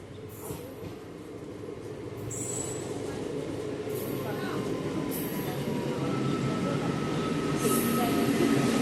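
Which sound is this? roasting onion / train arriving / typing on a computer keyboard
train arriving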